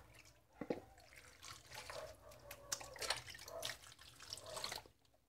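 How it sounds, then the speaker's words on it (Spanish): Water poured over curtain fabric to wet it, a quiet uneven trickle with splashy surges and dripping that rise and fall, then stop abruptly at the end, with no voices. "Procedemos a mojar la tela"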